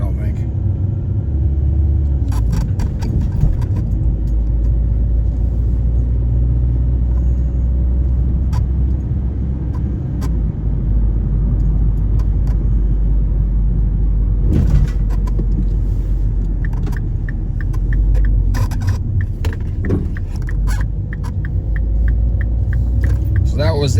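A car cruises around a lakeside park and peninsula neighbourhood, its steady low road rumble continuing throughout under intermittent talk, with occasional light rattles and clicks inside the cabin.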